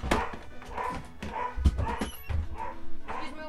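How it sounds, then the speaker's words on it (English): A dog indoors barks repeatedly in short, sharp yaps with a few whimpering notes, moderately close and fairly loud. "To reduce the barking sound of my dog barking."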